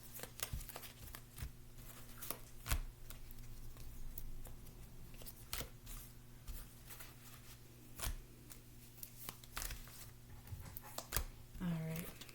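Tarot cards being shuffled by hand during a reading, a series of soft papery riffles and taps spread across the stretch under a steady low background hum.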